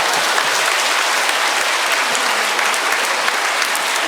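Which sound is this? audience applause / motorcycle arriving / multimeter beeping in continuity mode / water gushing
audience applause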